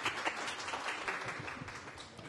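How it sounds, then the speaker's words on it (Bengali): An audience at a speaking event gives brief, steady applause, a dense patter of many hands heard fairly faintly from a distance. "আমরা একটা করতালি দিতেই পারি, তাই তো?"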